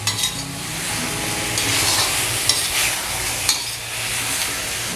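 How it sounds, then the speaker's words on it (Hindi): Aloo gobi sabzi of potato and cauliflower is stirred in a pan over a high flame, giving a steady bright sizzle with occasional scraping knocks of the spoon, close up and without talk. "फ्लेम को हाई करके इसे मिक्स करेंगे।"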